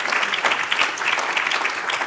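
A festival audience at a one-on-one onstage talk with Secretary Xavier Becerra at the CalMatters Ideas Festival 2024 breaks into dense, steady applause that stays loud and even for the whole stretch, with no voices over it.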